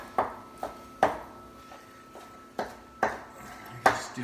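A knife chops smoked beef cheeks on a board, seven or eight sharp, close knocks spaced irregularly about half a second apart, with quiet pauses between.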